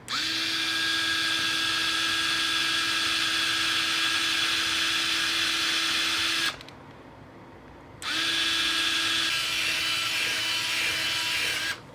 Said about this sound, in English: we drill out the little rivets here on the bottom